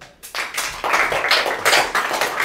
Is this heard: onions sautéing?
no